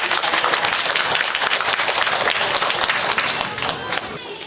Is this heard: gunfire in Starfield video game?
no